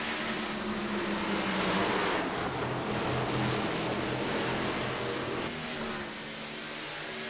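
Several racing trucks roar around a racetrack, a steady, loud blended engine drone that holds throughout and eases slightly near the end.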